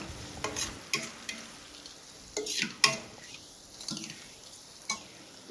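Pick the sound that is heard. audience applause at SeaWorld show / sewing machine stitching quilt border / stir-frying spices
stir-frying spices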